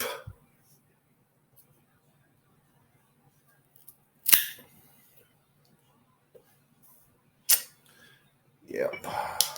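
A cutter snips the tip off a My Father La Gran Oferta Lancero cigar: a couple of sharp, close clicks separated by quiet pauses, with a brief voice near the end.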